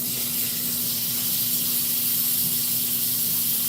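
A rib eye steak searing in a cast iron skillet gives off a steady, loud, dense sizzle and hiss that holds unbroken throughout, with no talking over it.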